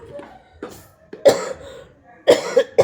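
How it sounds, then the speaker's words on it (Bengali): A person coughs in a kitchen while cooking, a few loud, close, harsh bursts with quieter gaps between them. "খুব কাশি"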